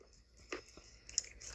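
Faint, brief crunching bites on stale trading card pack gum, a couple of sharp crunches in otherwise quiet surroundings.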